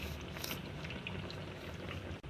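Besan-coated naan frying in a pan gives a steady, dense sizzle that holds at an even level throughout, close and continuous with no voices.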